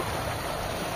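Strong irrigation water from a solar pump rushing in a steady, full, continuous flow, close and unbroken for the whole moment.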